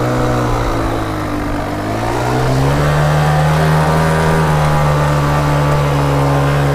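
A Yamaha DTR 125 trial motorcycle revs steadily on an uphill climb, its mid-pitched engine note rising in pitch partway through and then holding loud and close.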